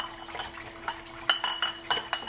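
Chardonnay wine bottles being rinsed with a water jet while a rag is rotated inside, giving faint glassy clinks and splashing rubs in an uneven rhythm over a steady hiss.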